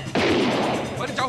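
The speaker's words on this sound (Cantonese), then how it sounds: "好似槍聲嚟嘅喎。" Gunfire in a Hong Kong gambling film scene: one loud, sharp report with a sustained echoing crash, followed by brief voices at the end.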